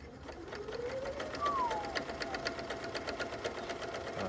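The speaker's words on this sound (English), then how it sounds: "Let's just go with a straight stitch first, half speed, and see what we get." A Pfaff Quilt Ambition 630 sewing machine running a straight stitch at half speed, giving a fast, even, close mechanical chatter with a rising whir as it gets going.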